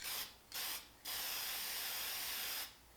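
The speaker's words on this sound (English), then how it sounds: "here's the 99-cent spray paint. It's like it doesn't even spray compared to that other stuff." Short hissing bursts from a cheap 99-cent spray paint can, two brief sprays followed by a longer steady hiss, close and fairly weak.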